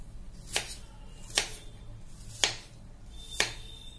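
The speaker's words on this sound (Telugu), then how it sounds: "సాధ్యమైనంత వరకు చిన్న పీసెస్గా మనం యాపిల్స్ని కట్ చేసుకోవాలి" A knife chops apples into small pieces for a fruit salad, four crisp, evenly spaced cuts landing on a board, quiet and close with no talking.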